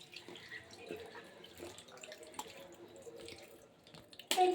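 Tap water runs faintly and steadily into a kitchen sink while fruit is washed, with light splashes and drips throughout and a louder gush of water right at the end.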